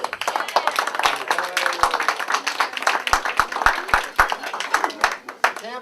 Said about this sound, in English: want to applaud beforehand and applaud afterwards.